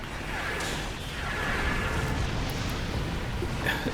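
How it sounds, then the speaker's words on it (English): In Star Trek Online, the Crystalline Entity unleashes a big explosion, a loud, sustained roaring blast with a whooshing rumble that swells and holds for several seconds. "it's about to do that big explosion"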